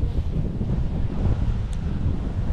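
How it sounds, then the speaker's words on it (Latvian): Strong wind buffets the microphone with a steady, rough low roar, gusting continuously without a break. "Pilnīgi vējš tāds, ka nekur iemest nevar"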